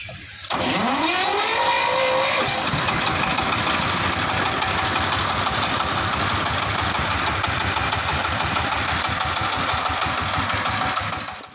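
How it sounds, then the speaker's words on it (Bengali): A 5-ton load truck engine cranks briefly, catches and settles into a loud, steady diesel-like idle nearby that keeps running evenly to the end. "এবার আমরা গাড়িটি চালিয়ে গাড়িটির সাউন্ড কোয়ালিটিটি শুনবো তো ফ্রেন্ডস চলো গাড়িটি স্টার্ট করা যাক"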